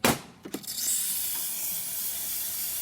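A steady, bright hiss of steam from a Breville espresso machine, running continuously after a few short bursts at the start.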